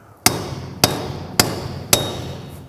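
A breaching tool driven in with four sharp, evenly spaced hammer strikes on metal, each loud and close with a short ringing decay, and no talking.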